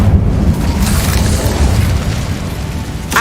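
The Incendio fire spell cast in Hogwarts Legacy gives a loud, dense whooshing roar and boom that holds for the whole stretch, then ends with a sharp burst.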